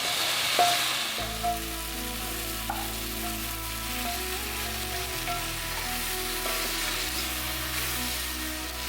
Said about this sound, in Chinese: 之后呢，放入牛腩，翻炒一下